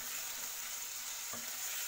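Chicken fries with garlic ginger paste in a pan, giving a soft, steady hiss with one light stirring knock partway through, and no talking.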